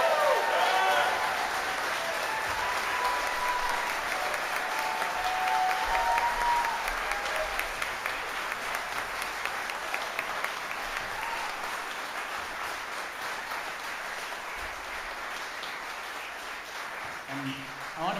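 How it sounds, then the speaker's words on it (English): Audience at a live theater performance gives sustained applause for a long stretch, steady dense clapping with cheers and voices mixed in early, gradually thinning and fading toward the end. "So let's give everyone a huge round of applause."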